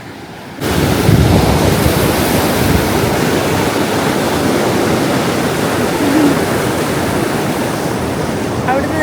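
A fast-flowing river roars continuously after a brief quieter start, a broad steady rush of water with wind buffeting the microphone.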